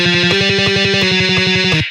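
Guitar Pro 7 software playback of a guitar rhythm with rests on alternate beats, loud and alone, with evenly spaced chugging strums.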